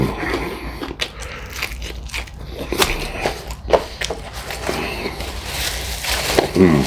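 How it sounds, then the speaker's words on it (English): Close, loud crunching and wet smacking from someone chewing a pile of extra crispy fried chicken legs and thighs, with irregular crackly bites running throughout and no talking. "so be some crunching, some smacking."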